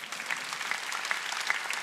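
A church congregation claps in unison during a worship service, a fairly soft, steady rhythmic patter heard alone without talk.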